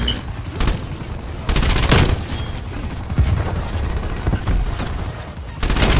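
A PPSh-41 submachine gun in a shooter game fires long rattling bursts, close and loud, broken by short pauses and a heavier boom partway through.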